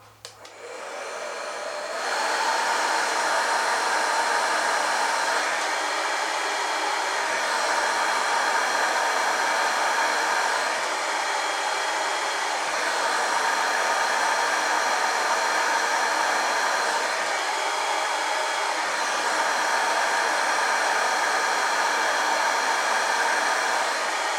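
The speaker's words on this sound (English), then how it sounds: "if I use the hairdryer, we should see an increase in the weight of the car" A hair dryer blows steadily and loudly for the whole stretch after a brief quiet start, a constant rushing whir with no talking.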